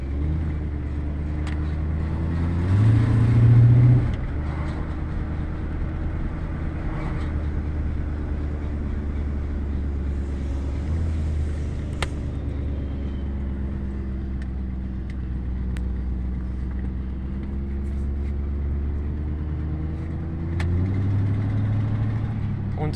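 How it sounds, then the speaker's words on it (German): A Cadillac Seville with a 368 V8 6.0L engine, on its first short drive after three to four years, hums steadily with engine tones rising and falling as the transmission shifts, while people talk inside the car. "Hört sich an, als ob die Getriebe schalten möchte."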